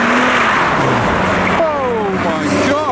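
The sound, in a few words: BMW 6 Series car drifting sideways at a car meet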